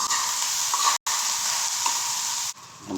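Garlic fried rice (sinangag) sizzles loudly in a pan while being stirred, with the frying interrupted by a brief gap and quieting slightly toward the end.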